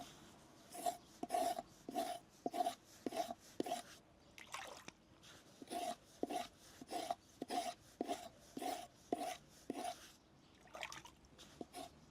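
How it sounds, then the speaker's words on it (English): Rhythmic rasping scrapes as the outer layer of a plant stem is stripped to make rope, about a dozen short strokes in two bursts with a brief pause between, close and clear, no talk. "So what you do is scrape off the outer part like that on both sides."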